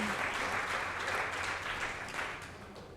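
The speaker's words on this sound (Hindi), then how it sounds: "जोरदार तालियां" Broad, steady applause from an audience at a Hindi open mic awards event, filling the whole stretch before tapering slightly at the end.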